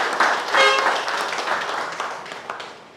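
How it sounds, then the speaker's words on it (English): Audience applause at a partnership renewal ceremony between SOL Guyana and Guyana Technical Institute: a room of people clapping steadily for about three seconds, moderately loud and gradually tapering off. "I think we can get a round of applause for that"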